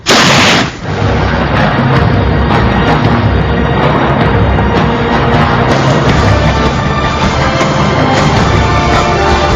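A loud, sharp gunshot blast at the very start, followed by sustained dense crackling and booming like continuous gunfire and explosions from a Filipino drama scene, dominating throughout with no speech.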